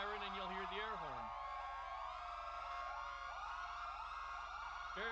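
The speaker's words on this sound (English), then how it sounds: "if you activate your air horn where your siren is going, it will interrupt the siren" An electronic police siren in a video game wails continuously, sweeping up and down in pitch, then shifts into rapid yelping tones, heard faintly and steadily throughout.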